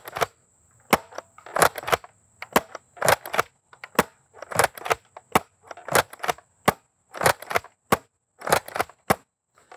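A NERF DragonPower Emberstrike pump-action blaster fires eight darts, each shot a sharp, close snap paired with the clack of the pump, in an uneven rhythm about a second apart with quiet between.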